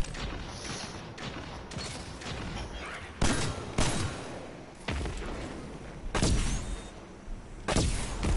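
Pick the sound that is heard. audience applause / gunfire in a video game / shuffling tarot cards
gunfire in a video game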